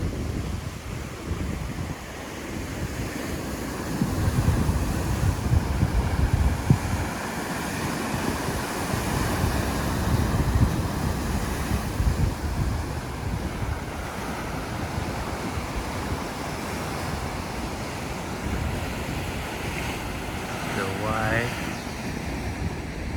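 Ocean waves break steadily against the rock jetty at Morro Rock in Morro Bay, California, a constant wash of surf with gusts of wind rumbling across the microphone and a brief voice near the end.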